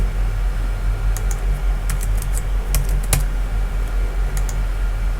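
Keys on a computer keyboard are tapped while a password is changed, a few sparse, light clicks over a steady low hum of room or fan noise.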